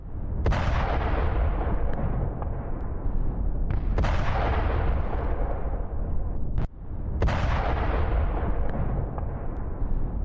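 Russian forces strike a Ukrainian tank in Zaporizhzhia, and three heavy explosive blasts go off about three seconds apart, each a sharp crack followed by a rumbling decay, set against a constant roar of battlefield noise.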